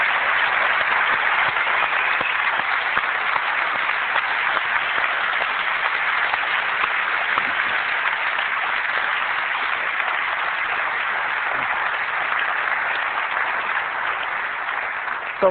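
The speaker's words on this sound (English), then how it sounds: "I'd like to give them a round of applause now" A large audience at a 1999 Seybold San Francisco conference session applauds for the Apple teams: steady, dense, even clapping that holds for the full fifteen seconds, with a muffled, band-limited sound and no voices.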